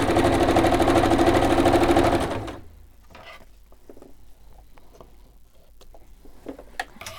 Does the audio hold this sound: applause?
no